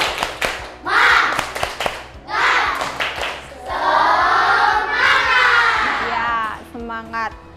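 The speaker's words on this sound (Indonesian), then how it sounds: "Sekarang tepuk semangat." A classroom group of students performs a rhythmic clapping cheer, sharp patterned claps in bursts alternating with shouted chanting voices, loud and close, ending in quick final claps.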